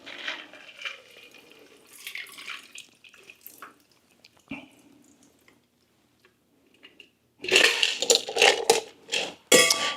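A Campari cocktail is poured at a home bar over a large ice rock, with soft trickling and clinking followed by a louder burst of splashing and rattling ice near the end.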